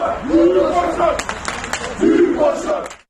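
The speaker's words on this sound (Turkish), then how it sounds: "hastane önünde toplanan bir grup Ankara gücü taraftarı Başkan Koca'ya destek tezahüratında bulundu" Ankaragücü football fans gathered outside a hospital, chanting in support of their club president, a crowd of voices in rhythmic, rising and falling chants with scattered claps, fairly loud and close.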